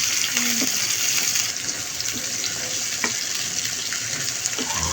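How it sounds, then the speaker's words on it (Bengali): Chopped onions frying in half a cup of oil with garam masala, cardamom and cinnamon, a steady soft hiss and sizzle with occasional light clicks of stirring, close and continuous. "ভেজে নিচ্ছি লাল হয়ে যাওয়া পর্যন্ত"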